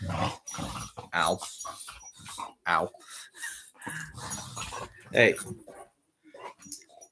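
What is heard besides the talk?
two dogs whimpering and barking in the room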